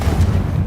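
A Confringo fire-blast spell cast in Hogwarts Legacy lands as a short, heavy booming burst with a dense low rumble that sustains steadily through the moment, loud and close with no talk over it.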